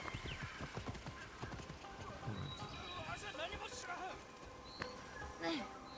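Horse hooves clip-clopping at a gallop with a whinny, in the Assassin's Creed Shadows video game, with game music, ambience and talk over it.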